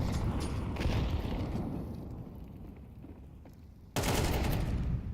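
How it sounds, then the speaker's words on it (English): AK rifle fire in a Counter-Strike match, heard as dense rapid bursts of gunfire that thin out midway and then return abruptly loud near the end, with no one talking. "AK swing and a miss."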